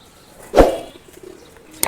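A single short, fairly loud coo from an old-breed domestic pigeon stands out from quiet surroundings, with faint background noise after it.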